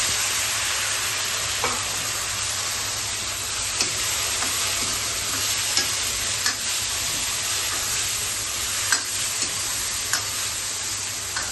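Chopped tomatoes and green chillies fry with onions in a smoky home kitchen pan, a constant loud sizzle with occasional sharp clicks and spatula taps scattered throughout, no talking.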